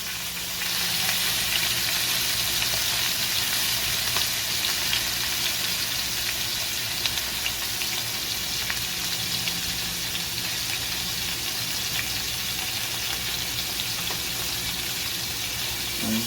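Teriyaki steak pieces fry in a pan, giving a loud, continuous close-up sizzle that holds steady throughout with no pauses or voices.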